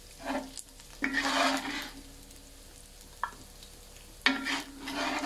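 Beef carbonara gets stirred in a pan, with a few scraping strokes and soft sizzling between them, close by, and no talking.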